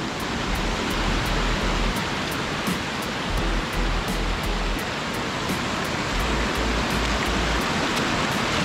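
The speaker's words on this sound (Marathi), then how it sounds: "मित्रांनो रस्त्याने जाताना आपल्याला एक छोटासा धबधबा लागला आहे" A small roadside waterfall at Bhimashankar, in the Sahyadri range, pours in a steady, loud broadband rush of falling water with no voices.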